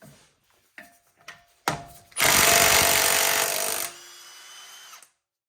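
A mid-torque impact wrench spins suspension bolts on a 328i in bursts: a few short clicks and taps, then a loud sustained hammering rattle for nearly two seconds that drops to a lower whir before stopping.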